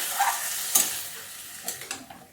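Warm water poured into a pan of mixed vegetables and amaranth stems cooking for danta ghonto, giving a soft sizzle and a few faint stirring clicks, close and quiet with no talk.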